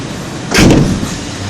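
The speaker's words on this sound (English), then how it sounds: "the door just opens a few millimetres." A van door fitted with a new deadlock is opened, giving a single loud metallic clunk with a short rattle and ring that fades away, with no voices.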